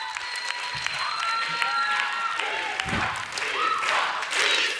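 Lively audience applause for a singer in a music academy show, steady clapping with cheering voices and whistles over it and some indistinct talk beneath.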